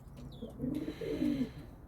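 A male pigeon gives a low, soft coo in two swelling phrases, quiet and close, with faint ambient noise around it.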